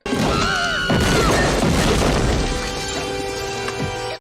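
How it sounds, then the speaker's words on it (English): A loud, sustained crashing rumble rolls on for several seconds, with a sharp crack near the start, like a close thunderclap. "Thunder's sure getting close."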